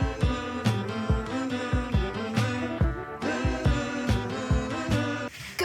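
A rock song plays as a full band recording with steady drum hits, bass and layered guitars and vocals, loud and continuous without any talk over it.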